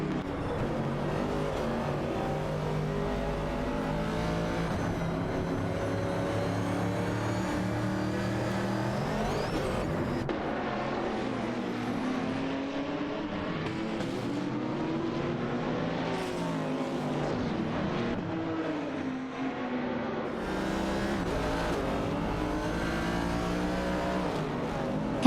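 Race car engines in an AI racing game whine and rev continuously, pitches rising and falling as cars accelerate and shift, a dense unbroken roar with no voices.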